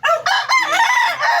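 A gamecock raised for cockfighting crows once nearby, a loud, ringing cock-a-doodle-doo with a rising start and a long wavering tail.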